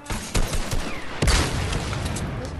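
Gunfire in the video game Fortnite, a series of sharp shots and a heavier blast crackling close and loud, followed by lingering rumble.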